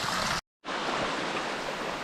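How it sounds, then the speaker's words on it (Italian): A mountain stream near Collina in Forni Avoltri rushes and gurgles in a loud, continuous wash of water close by, broken by a brief gap of silence. "Altro ruscello, adesso una bella rinfrescata."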